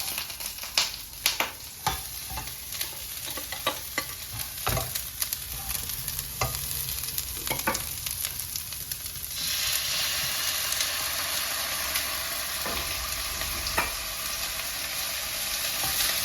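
Winged beans stir-fried in hot oil in a pan, a steady sizzle that jumps louder partway through as the beans go in, punctuated by repeated sharp scrapes and clacks of the spatula.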